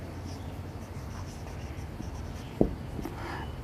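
Writing on a board during a Class 9–10 maths lesson, faint scratchy strokes over a steady room hiss, with one sharp tap partway through.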